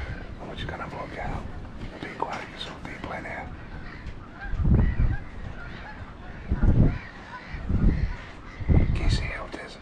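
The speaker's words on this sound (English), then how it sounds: "We saw some cormorants, Canadian geese." Canada geese honk from a lake outside a bird-watching hide at an angling park. Raspy calls come at a mid distance, mixed with several louder bursts, under quiet nearby murmuring and talk.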